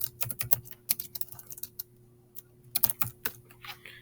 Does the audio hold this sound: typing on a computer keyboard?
yes